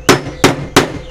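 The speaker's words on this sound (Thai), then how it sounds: "วิธีแก้ปัญหาเราหยิบค้อนมาเลยครับ" Three sharp, loud metallic hammer blows land on thin steel being set up for butt welding, evenly spaced about a third of a second apart, with no talking.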